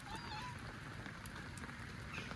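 Rain falls steadily in a soft, even hiss of drops on surfaces, faint and continuous throughout, with no clear voices.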